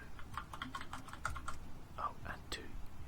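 Computer keyboard keys clack in quick, uneven bursts while someone plays the Epistory typing game, a close, soft run of a dozen or so separate keystrokes.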